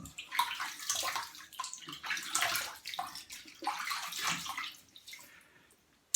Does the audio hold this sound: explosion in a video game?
no